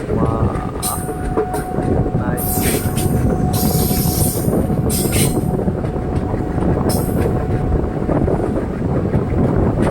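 A train on the Boko to Guwahati line in Assam rolls past nearby with rumbling wheels and repeated high metallic squeals, wind buffeting the microphone, and a brief spoken word.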